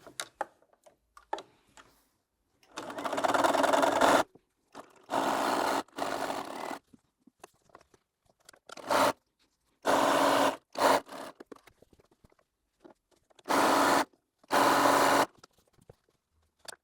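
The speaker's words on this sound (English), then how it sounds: "And then back to the sewing machine to put the other 2 strips on." Sewing machine stitching strips onto a layer-cake Christmas box quilt block, running in several bursts of a second or two separated by pauses, close and moderately loud with no talking.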